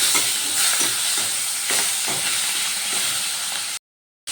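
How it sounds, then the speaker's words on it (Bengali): Fish fat fries in oil with black cumin seeds, a loud close sizzle broken by regular scraping stirs about every half second, then cutting to brief silence before resuming. "এবার তেলটা একটু ভালো করে ভাজা ভাজা করে নেবো"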